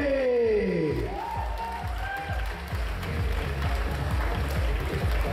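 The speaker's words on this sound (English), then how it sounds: "Ladies and gentlemen, how about a tremendous round of applause out here for Diane Narayana Swami" Wedding reception guests break into applause and cheering, a dense wash of clapping with whoops rising over it, loud and close, following a few sliding tonal notes at the start.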